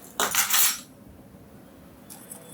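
Cornflour and salt being mixed in a bowl for paneer chilli, a brief burst of loud clinking spoon-on-bowl scraping at the start, then near quiet with a faint clink at the end.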